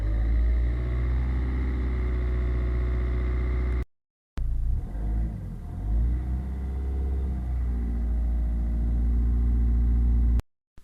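A car engine rumbles steadily and then revs up as the car pulls away from a standstill, loud and close, with a short break partway through and no talk over it.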